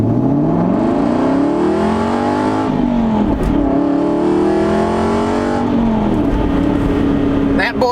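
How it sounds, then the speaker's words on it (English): An Aston Martin V8 Vantage with a free exhaust mod revs loudly and close by, its engine note rising and falling in continuous sweeps for the whole stretch. "Listen to the free exhaust mod."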